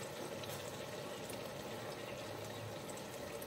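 Water boiling away around chicken pieces in a pan on a high flame while making chicken stir fry, a steady dense bubbling and sizzling hiss, close and continuous with no talk.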